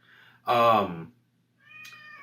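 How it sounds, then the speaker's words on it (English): A pet cat gives one loud, drawn-out meow up close, then a quieter, shorter meow after a pause, in an otherwise quiet room. "My cat is very loud."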